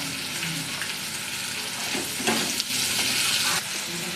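Potatoes frying in a pan at home, a steady close sizzle with occasional scraping stirs and clatter throughout, no voices.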